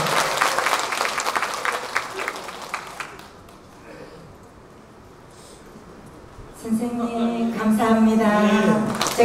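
An audience at a singer's album launch event gives a loud round of clapping that fades to a hush midway, then music with sustained tones swells in over the room.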